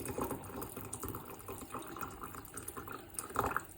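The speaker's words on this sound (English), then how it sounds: "I'm going to pour boiling hot water" Boiling water from a kettle poured into a container, a continuous close splashing and gurgling stream with a few louder surges near the end.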